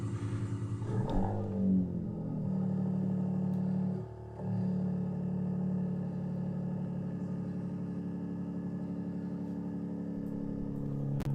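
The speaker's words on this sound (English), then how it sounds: "the Hurricane does not sound bad. It does not sound bad with a cold start." A Dodge Charger with the Hurricane engine idles just after a cold start, a steady low rumble with a brief rev near the start and a short dip midway, settling into an even, close idle with no talk.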